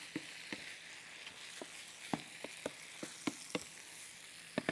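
Beef enchilada meat mixture stirred in a pan, with a faint sizzling hiss under a series of sharp utensil taps and scrapes, irregular and close, with no talk.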